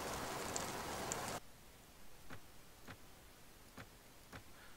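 Rain ambience in the video game Mount & Blade, with a loud, steady wash of noise that cuts off abruptly after about a second and a half, then a quieter hiss with a few soft, evenly spaced ticks like drips.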